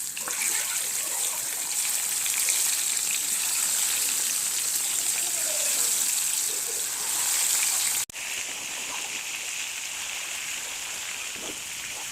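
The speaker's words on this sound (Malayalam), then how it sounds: "അതിനകത്തേക്ക് നമ്മൾ പുരട്ടി വെച്ച മസാലയൊക്കെ പുരട്ടി വെച്ച മീനിട്ട് വറുക്കാം" Masala-coated fish frying in hot coconut oil with curry leaves, a steady loud sizzle and bubbling hiss that holds for about eight seconds, drops out briefly, then resumes slightly softer with no talking.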